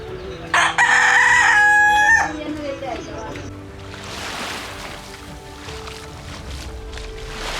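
Roosters crow loudly at a Philippine cockfighting setting, one strong nearby crow followed by fainter crows and clucking over a busy background of crowd noise.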